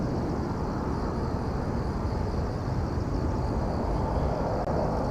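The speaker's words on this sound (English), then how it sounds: "we can expect to see an Airbus A380 making the turn to take off" An Airbus A380 turns onto the runway for takeoff at Incheon, giving a steady, broad jet engine rumble that holds at an even, moderate level throughout with no talk.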